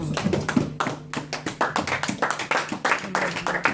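Church congregation clapping in praise of the Lord, with quick, rhythmic, close hand claps in a steady beat and a faint tone running underneath.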